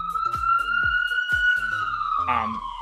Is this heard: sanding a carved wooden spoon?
no